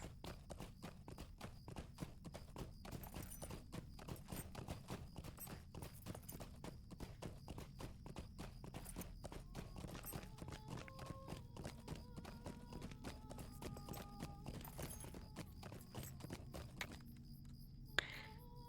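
Winter steed mount galloping in the online game LOTRO, rapid continuous hoofbeats in a steady rhythm, faint and even throughout, with a few short melodic game chimes toward the end.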